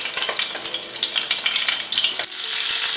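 Whole fish frying in hot oil over a medium-high flame, second side cooking for Szechuan spicy fish: a steady, dense crackling sizzle with fine popping spatters throughout, fairly close, with no voices.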